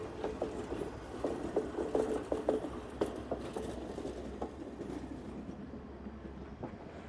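An Alaska Railroad train rumbles past at a distance with rhythmic clacking of wheels over rail joints, fairly faint and steady.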